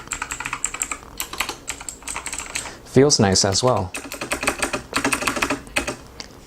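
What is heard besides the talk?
typing on VAVA Chroma mechanical keyboard, blue Kailh switches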